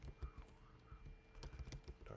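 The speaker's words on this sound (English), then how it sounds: "my keyboard is going crazy today" Rapid, uneven clicks and taps from a computer keyboard, heard close but faint, with irregular bursts of keystrokes over a low background hum and no clear speech.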